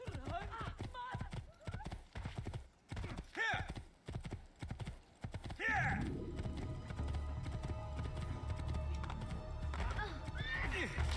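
Horse hooves clopping and a horse neighing in Assassin's Creed 2 as a rider pushes through crowds, with speech over the first half, then steady hoofbeats and crowd bustle.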